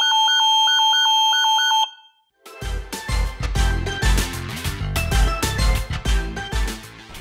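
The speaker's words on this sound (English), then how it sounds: "the alarm will go off, alerting your security monitoring service" A loud, repeating electronic Nest Secure home security alarm beeps steadily for a couple of seconds, then stops abruptly before busy music takes over.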